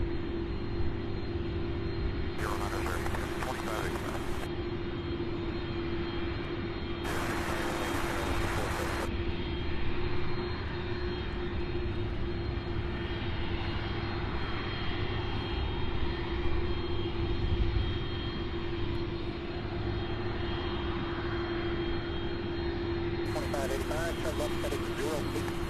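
Airliner arriving at Louisville International Airport after a three-hour flight, a steady engine drone running throughout beneath intermittent talk.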